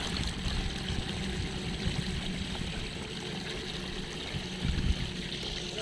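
Hot spring water flows and splashes continuously nearby, a dense steady rushing gurgle without pause and with no voices.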